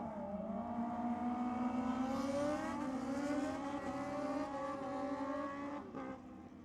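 Motorcycle drag racing down the strip at a JDM Euro night: a high, straining engine note climbs steadily through the gears, heard from a distance as one continuous run, then eases back near the end.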